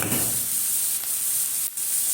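A quarter kilo of grated onion fries in a spoonful of ghee, giving a loud, dense, continuous sizzle with brief dips as it is stirred.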